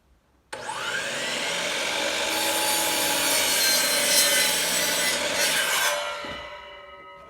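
A saw cuts steadily through a crown moulding curtain valance, a loud, continuous rasping whine that starts abruptly, holds for about five seconds and then winds down, with no talking.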